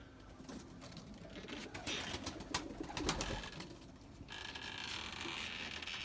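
White pigeons coo softly while some of them fly, a faint and steady murmur of calls over light background noise.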